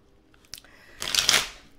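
A deck of cards riffled once, a short crisp fluttering burst that swells and trails off, preceded by a faint tap, close by.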